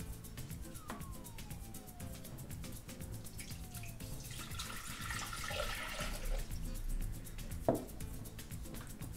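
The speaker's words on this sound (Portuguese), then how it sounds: "E vamos começar por colocar a água." Water poured into a Thermomix bowl before cooking an egg in the steaming basket, a soft splashing trickle that swells in the middle, with faint background tones and no talking.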